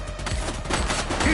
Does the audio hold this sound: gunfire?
yes